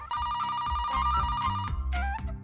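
A telephone rings with a bright, continuous electronic trill, loud and close, running without pause and with no talk over it.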